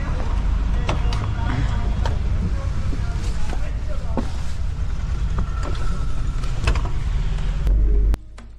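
A van carrying travellers on the road from Dehradun toward Sankri, a steady interior engine rumble and road noise with light rattles, cutting off abruptly at the end.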